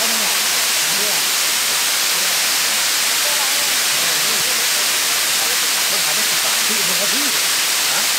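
A waterfall rushes with a loud, steady, broadband roar throughout, while a voice speaks faintly beneath it.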